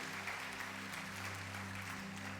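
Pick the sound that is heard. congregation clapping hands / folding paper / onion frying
congregation clapping hands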